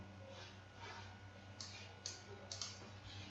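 A computer mouse clicks while working in midas Gen software, with several sharp, close clicks, some in quick pairs, over a faint steady hum.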